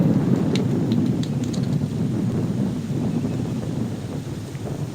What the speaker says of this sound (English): I'm waiting on the wind to quit.